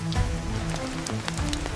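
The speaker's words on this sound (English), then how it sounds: "Rain hammered the walls" Rain patters and taps on the walls of a hot tent at a rainy fishing campsite, a dense wash of drops with sharper individual hits up close and no talking.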